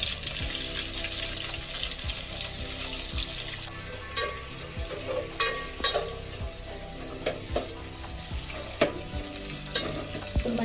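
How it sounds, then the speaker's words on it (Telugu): Chopped onions frying in hot oil with whole spices for Telangana bagara rice, a steady soft sizzle with occasional stirring clinks and scrapes, close by with no talking. "నెక్స్ట్ వచ్చేసి ఆనియన్స్ వేస్తున్నా కట్ చేసి పెట్టుకున్నాం కదా ఆనియన్స్ వేస్తున్నా"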